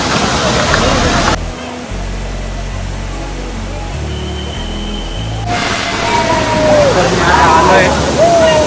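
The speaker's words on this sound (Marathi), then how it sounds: "आता आलं वसुंधरा वॉटरफॉल" Vasundhara waterfall at Bhandardara, a broad rushing roar of falling water that drops away briefly before surging back up, loud and continuous, with a low rumble beneath.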